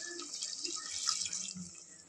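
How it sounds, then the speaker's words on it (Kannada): Water poured into a pot of chicken biryani, a brief close splashing stream that swells and then eases, with no talk. "ಈಗ ನೀರು ಹಾಕ್ಬೇಕು"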